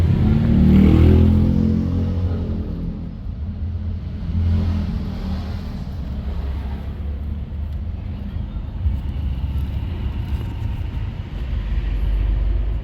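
A noisy 4D56 engine runs with a loud, steady low rumble that carries on unbroken from start to finish, with no voices over it.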